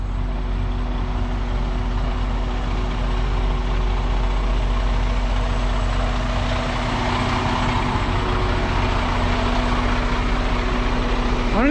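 A truck engine idles in a yard, a loud, steady low rumble with a constant hum that runs unbroken for the whole stretch, with no talk over it.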